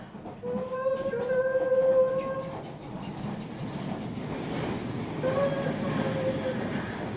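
Train rumbling steadily along the rails with the wheels squealing in long high-pitched tones, heard at moderate level as part of a toddlers' big-train movement game.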